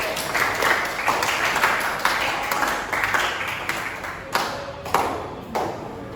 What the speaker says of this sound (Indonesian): Oke, beri tepuk tangan dulu untuk temennya Dila.